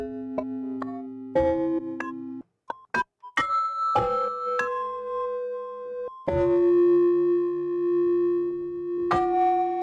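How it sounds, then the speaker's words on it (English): A series of bright typewriter bell sound effects, chimes and dings, some struck in quick clusters, others ringing out and sustaining with clear tonal overtones, no talking. "And then we got typewriter bells."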